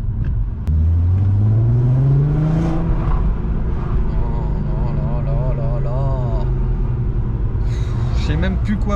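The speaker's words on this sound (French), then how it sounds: "vous allez pouvoir faire parler un peu plus la longe du moteur. Les petits crépitements." A VW Golf 4 R32 engine revving, a loud, close throaty roar rising steadily in pitch, then holding a steady drone with popping crackles on the overrun, with someone talking over it.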